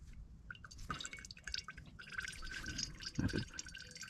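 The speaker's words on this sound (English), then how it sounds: "So I'm just gonna let this drain, sit there." Fluid drips as it drains from a 1980s Buick Century–type car during brake work, giving faint, irregular plinks and splashes close by, with a few louder drops near the end and no talk.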